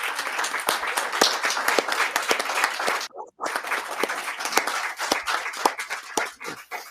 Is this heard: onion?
no